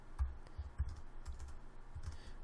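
Soft, uneven clicking of a computer keyboard during coding, a short burst of keystrokes heard close and quiet, with no voices.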